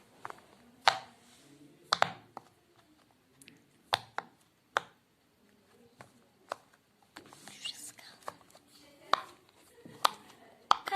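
Pop-it fidget toy pressed repeatedly by hand, giving sharp, close little pops and taps at an irregular pace, with soft whispering and quiet talk between the pops.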